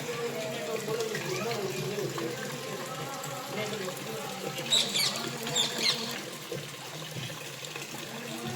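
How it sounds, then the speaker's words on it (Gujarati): Continuous rain patters and trickles in the background, with a few brighter splashes midway and people talking faintly. "હજુ વરસાદ ચાલુ ને ચાલુ છે"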